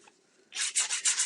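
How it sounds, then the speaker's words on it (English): A sanding block scrapes across the top of a craft surface in about four loud, rhythmic rough strokes close by, following a brief quiet moment. "you can use a sanding block like this. And what you do is you take this and you scrape off the top"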